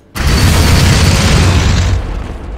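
A magma gun and cannon blast in the Warhammer 40,000: Armageddon strategy game: one loud, sudden explosion that booms broadly and rolls on for about two seconds before easing off.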